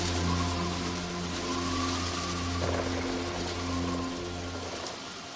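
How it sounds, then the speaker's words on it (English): Steady pouring rain, a continuous broadband hiss at a fairly low level, with a faint low hum underneath and no voices. "And the rains pour steadily for 40 days and 40 nights."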